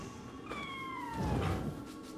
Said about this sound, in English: A scampus is a yokai in the form of a particularly corpulent cat.